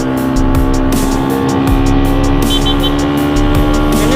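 A motorcycle rides at full throttle on the road from Tulehu toward Liang harbour in Ambon. It gives a steady, loud, continuous engine drone with rushing wind and slight pitch shifts, and no talking.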